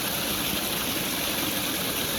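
Small waterfall near Hyderabad with clean water flowing down from above, giving a steady, dense rushing hiss that stays even and close throughout with no voices.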